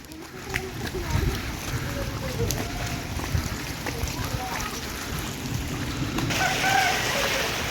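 Rain falls outdoors as a steady, dense patter and wash that holds evenly throughout, with voices in the background.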